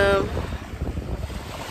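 Wind and ocean water on a beach after a boat trip to an island, rough wind buffeting close to the microphone over churning surf, loud and continuous.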